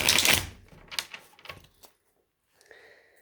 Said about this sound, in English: let me just shuffle this deck here